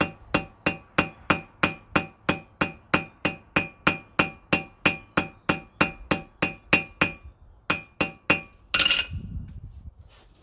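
Steady, rhythmic ringing hammer blows on hot metal on an anvil, about two per second, followed by a pause, a few more strikes and a final hissing burst, while forging a fire striker.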